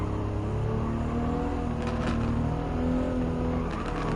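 Toyota Supra race car engine in Gran Turismo 7, a steady high-pitched drone held throughout at constant loudness during a one-on-one battle for first place, with no talk.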